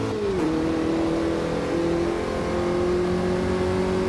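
Formula Vee Gen 2 race car engine in Automobilista 2 at Oulton Park, a steady loud droning engine tone that drops in pitch early on, then holds at a sustained whine with a slight rise, alone without speech.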